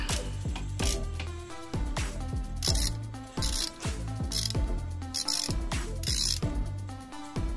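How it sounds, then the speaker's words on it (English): A ratchet wrench loosening a bolt on a pit bike, giving fast, loud clicking bursts in repeated strokes, each run of pawl clicks followed by brief pauses, close and clear with no talk. "So now let's go ahead and loosen up this bolt."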